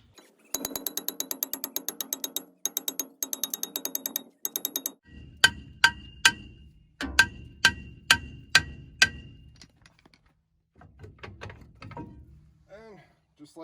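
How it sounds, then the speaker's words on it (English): Hammer blows working a brake rotor loose from a Duramax truck axle, sharp metallic strikes in quick bursts, then slower single clangs, close and loud with some ringing. "just take a hammer and just start working around it"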